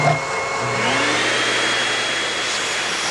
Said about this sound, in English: Everyday sounds from household appliances